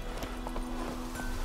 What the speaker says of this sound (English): Oh, it's my horse.